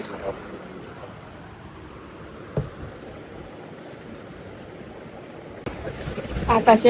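Steady wind rushes outdoors, low and continuous, picking up into stronger gusts toward the end.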